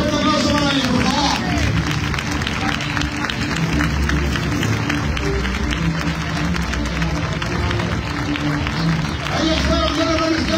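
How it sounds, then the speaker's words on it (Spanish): Crowd at a recortes event in San Martín de la Vega, steady loud clapping and cheering mixed with crowd hubbub, with a voice speaking over it throughout. "¡Fuerte aplauso para ellos, por favor!"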